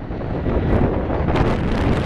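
Strong gusty wind of 20 to 35 knots near Atlanta's Hartsfield airport buffets the microphone with a deep, continuous low rumble that surges in gusts, loud and close, with no voices.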